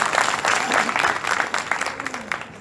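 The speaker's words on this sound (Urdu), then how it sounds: "تالیاں بجائیں تو کھل کے بجائیں, یہ تڑ تڑ سے کچھ نہیں ہوتا." Audience applause at a talk on humans versus machines, a steady wash of clapping that stays fairly loud throughout, with a faint voice briefly audible beneath.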